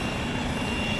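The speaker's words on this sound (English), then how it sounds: "Oh, helicopter's gonna be taking off," A stat medical helicopter preparing to take off at night, a steady, loud, close engine and rotor roar with no talk.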